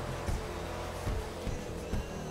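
A car in GTA with its exhaust backfiring, four dull pops at roughly half-second intervals over a steady engine drone.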